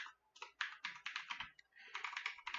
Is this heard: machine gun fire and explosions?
no